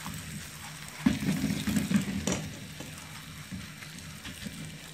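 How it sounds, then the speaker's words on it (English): Yam sizzles and crackles in hot oil in a pan as it is spread around, a steady close frying hiss with scraping stirs and a few sharper clatters, no voices. "Now that our oil is hot, we are going to add our yam and spread evenly."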